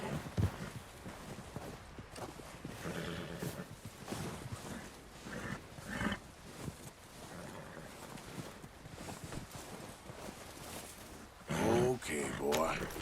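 Hoofbeats of a galloping horse in the video game Red Dead Redemption 2, a steady rapid clatter running throughout alongside game sounds and ambient noise.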